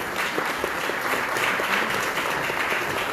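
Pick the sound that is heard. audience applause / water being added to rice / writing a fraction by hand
audience applause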